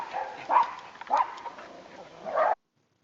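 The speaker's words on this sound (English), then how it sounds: "So my dogs are barking" Dogs bark in three sharp, close bursts about half a second apart, a mix of yips and bow-wows with a slight whimpering edge, stopping abruptly.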